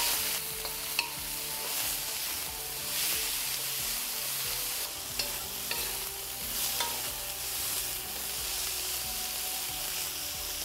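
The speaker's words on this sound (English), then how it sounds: "Eggplants take a few minutes to cook, so let's leave it to cook for good 2 to 4 minutes, but also we will be stirring it" Eggplant pieces frying in a wok give a constant close sizzle, broken by repeated scraping and clattering stirs of a spatula throughout, with no voices.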